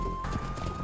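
Horse hooves clip-clopping in the Age of Empires II video game, a short burst of hoofbeats over a steady background hum.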